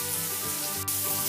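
Small kachki fish sizzle steadily in hot oil in a frying pan, a continuous close crackle with no talking.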